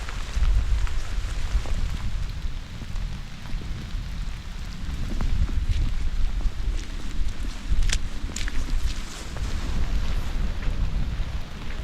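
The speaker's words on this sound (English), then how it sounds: "There's a good breeze blowing right now." Thunderstorm wind gusts rumble and buffet the microphone in low swells at a forest cabin shelter, mixed with a steady patter of rain, rising and falling throughout.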